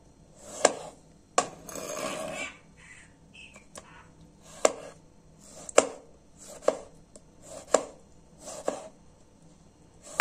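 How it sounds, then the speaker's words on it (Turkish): A knife slices through two tomatoes on a board, giving sharp, close knocks spaced irregularly about a second apart, with softer squelching and rustling between cuts. "2 tane domates dilimliyoruz."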